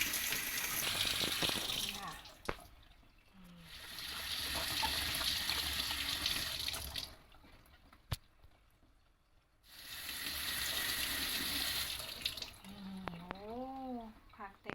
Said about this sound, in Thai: ขั้นตอนการชะนะคะก็คือเปิดน้ำผ่านนะคะ ประมาณ 30วินาทีนะคะถูๆๆนะคะ